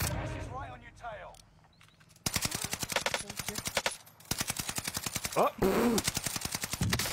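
Loud, rapid automatic gunfire from a shooter video game comes in two long sustained bursts with a brief gap between, while a player talks and exclaims over it.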